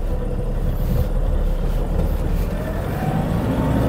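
Used Toyota Vigo pickup truck on a test drive along a rural road, its engine a steady loud drone mixed with road rumble and wind noise, with no talking.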